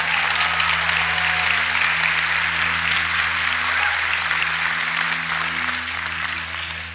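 A church congregation at a night of worship in Fairfax claps to welcome guests, loud, dense and sustained applause filling the room for several seconds before easing slightly, over a steady low hum.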